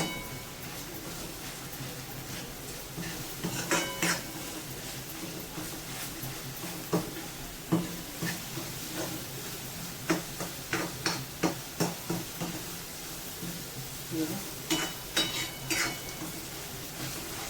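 Onion and potato bhaji being stirred in a pan, a steady sizzle of frying under repeated soft scraping taps of a spoon against the pan, with a busier run of strokes toward the end.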